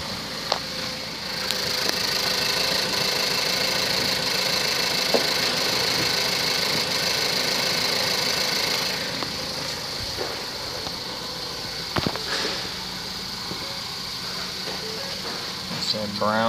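A 2013 Ford Focus SE running at idle, a steady, moderate engine hum with a faint ticking texture that eases slightly partway through, with a person speaking over it and a few clicks.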